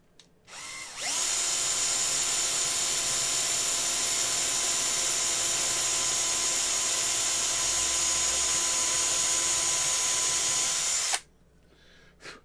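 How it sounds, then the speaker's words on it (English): A power drill bores out a rivet on a 1960 Bush TR 82C radio, a loud close high-pitched whine that spins up, holds steady for about ten seconds, then cuts off abruptly. "If I drill them this way, I can actually get into the cup of the rivet and drill through."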